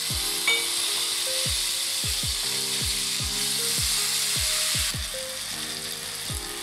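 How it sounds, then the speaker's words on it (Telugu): Capsicum and tomato fry in a pan for paneer biryani. A constant bright sizzle fills the background, overlaid by a run of repeated sharp clicking, ratchet-like ticks, with no voices. "ఇప్పుడు క్యాప్సికమ్, టమాటో వేసుకుందాం."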